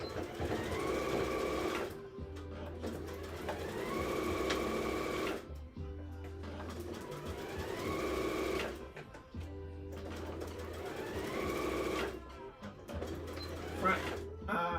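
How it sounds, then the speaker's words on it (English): A sewing machine stitching fabric, close and steady, running in four long bursts of rapid mechanical whirring and needle chatter separated by short pauses, with a voice talking faintly in the background. "Now we're going to stitch 5/8 of an inch on both sides from the top to the bottom."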